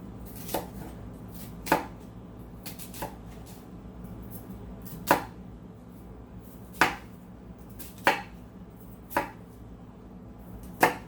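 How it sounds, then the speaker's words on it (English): A knife chops an onion on a cutting board in single, well-spaced thuds, close by against a low background hum. "I also have some onion that I'm gonna chop up"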